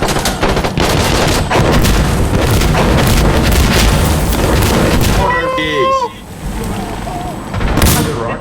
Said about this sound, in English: Get back, grenade.